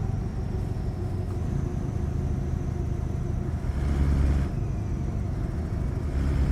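Scania truck cruising in Euro Truck Simulator 2, a continuous low engine rumble with road noise that swells briefly midway, steady and close with no talking.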